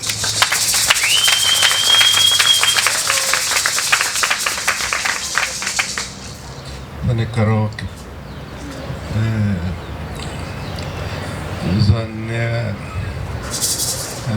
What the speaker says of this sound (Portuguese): Palmas para Arão.